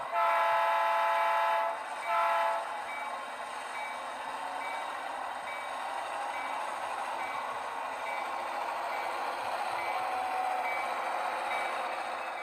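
A model train rolls along its track and sounds its horn in two loud blasts at the start, followed by a steady running rumble.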